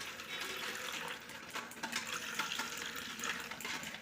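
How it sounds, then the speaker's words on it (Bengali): Orange juice pouring into a container for soaking chopped nuts, a soft, steady liquid splashing stream, quiet and close, lasting a few seconds. "জুসটা ঢেলে নিচ্ছি"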